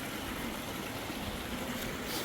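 Quiet, steady rush of flowing stream water, a soft continuous trickle and burble with no voices.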